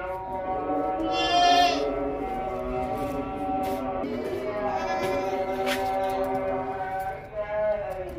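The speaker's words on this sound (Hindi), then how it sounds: "ज़बरदस्त किस्म का बकरा है।" A sacrificial buck goat offered for sale at a livestock market bleats in long, wavering calls. The calls come close and loud and repeat several times, one after another.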